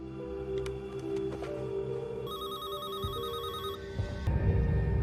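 A telephone rings with a repeating electronic trill over a low background hum, several pulses in steady rhythm, before the ringing stops and a muffled rustle follows.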